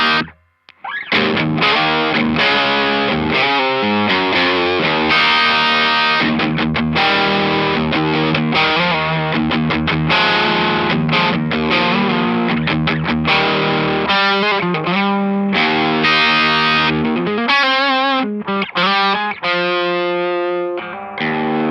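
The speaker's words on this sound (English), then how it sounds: "This is the direct Jazzmaster sound." A Jazzmaster electric guitar played with its direct sound through a Foxpedal Kingdom setup: a thick, driven tone strums and sustains continuously for over twenty seconds, with ringing chords and a few brief cuts, loud and without voices.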